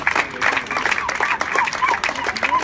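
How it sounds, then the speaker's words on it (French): An indoor audience in Saumur claps at the unveiling of a public piano box, a short burst of close, dense applause mixed with voices. "vous pouvez en profiter pour l'applaudir"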